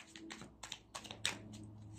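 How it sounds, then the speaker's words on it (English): A deck of tarot cards is shuffled by hand, making soft, irregular papery clicks and snaps close by at low volume, with no voices. "I'm gonna shuffle three times again."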